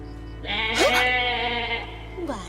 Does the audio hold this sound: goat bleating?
yes